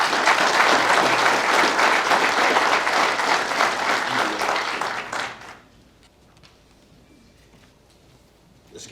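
An audience at a highway patrol awards ceremony for trooper and telecommunications operator of the year applauds loudly and steadily for about five seconds, then it fades to quiet room tone.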